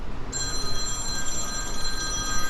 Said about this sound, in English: This is somebody trying to call me to do a commercial